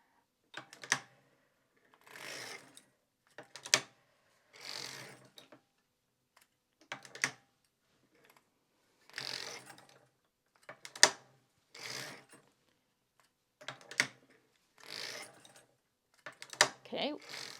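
A circular sock machine knits around while a heel is being worked, giving repeated short bursts of clicking, ratcheting mechanical rattle separated by pauses, close and fairly quiet.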